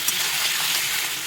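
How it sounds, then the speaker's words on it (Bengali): Ground spice paste frying for a Bengali fish curry with ridge gourd and potato, a steady hissing sizzle in the pan, close and even, no voices. "এইগুলোকে এখন খুব ভালো মতো কষিয়ে নেব।"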